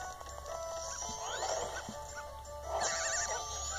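A dog whimpers and yips in the video game The Legend of Zelda: Majora's Mask 3D, with thin whines rising over steady game music and effects, moderately loud and without speech.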